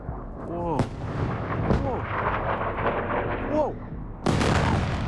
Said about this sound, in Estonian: Eile teatati Iisraelis asustatud piirkonnas õhutõrje ebaõnnestumisest ja raskete lõhkepeade otsestest tabamustest.